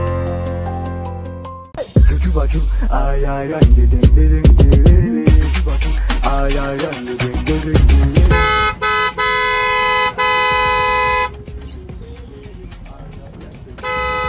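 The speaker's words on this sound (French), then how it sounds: "Le feu est rouge, tu viens et puis tu klaxonnes." Car horns in African city road traffic honk repeatedly in short toots and longer blasts, loud and close, over busy music and talk.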